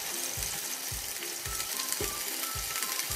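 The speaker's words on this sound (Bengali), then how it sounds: "আমি আগে আলুগুলো সব দিয়ে তারপর ফ্লেমটা মিডিয়ামে করে দেবো" Potatoes for a vegetarian dum aloo fry in a pan on a medium flame, a close, steady sizzle broken by regular soft scraping strokes as they are stirred, with no talking.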